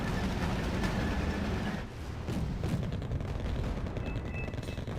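Osa air-defense vehicles in Wargame Red Dragon fire at a rapid rate, a dense continuous crackle of gunfire and rumble filling the mix at close range with no pause.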